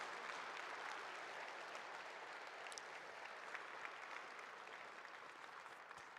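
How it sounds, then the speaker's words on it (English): Applause for winners at the Saskatchewan Municipal Awards ceremony, a steady, even wash of clapping from an audience, heard faint and somewhat distant, sustained throughout without a break. "Let's have another round of applause for our winners."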